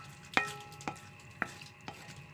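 A utensil stirs seasoning into a smoked fish mixture in a quiet kitchen, making four sharp, ringing clinks against the bowl at uneven intervals.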